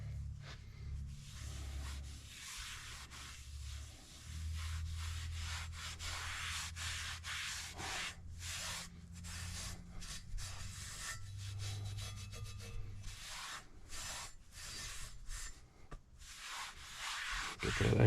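Rag wiping excess oil off a Lodge cast iron skillet: continuous rhythmic rubbing and scrubbing strokes, close and steady, with short pauses between passes and no talk.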